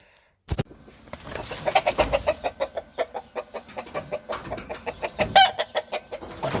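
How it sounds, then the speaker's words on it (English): Chickens cluck in a rapid repeated series, close and fairly loud, with sharper squawks mixed in and no talking. "Chickens."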